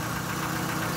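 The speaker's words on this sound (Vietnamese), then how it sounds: "Đây tiếng máy nổ đây" A 2009 Daewoo Gentra sedan with manual transmission idles steadily, its engine a close, even, continuous mechanical hum throughout, no voices.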